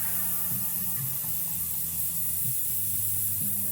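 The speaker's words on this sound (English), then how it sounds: "Just depressing the top of the air grip." Steady hiss of an airbrush spraying, with a low compressor hum pulsing underneath, close and fairly quiet throughout.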